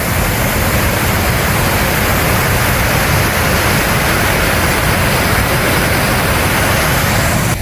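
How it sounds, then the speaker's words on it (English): A secluded Welsh waterfall roars close by, a dense, steady broadband rush that fills the whole stretch without a break and drowns out everything else. "I hope you can hear me over the sound of this waterfall"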